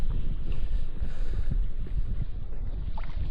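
Strong, steady wind buffeting across a lake during a July pike-fishing trip, a continuous low roaring rumble close to the microphone with gusty fluctuations throughout.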